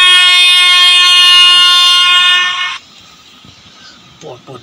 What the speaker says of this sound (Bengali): এইটা দিয়ে ট্রেন হর্ন দিয়ে দিয়ে যাচ্ছে